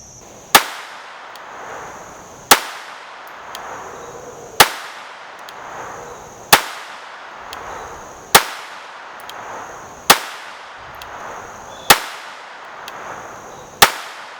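A Taurus PT-22 Poly pistol fires Fiocchi .22 LR copper-washed 40-grain rounds, eight sharp, loud cracks spaced evenly about two seconds apart, each with a short ringing decay.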